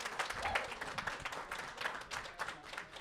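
A live event audience claps in brisk, irregular bursts, with the applause swelling and easing across three seconds and a faint voice mixed into the crowd noise.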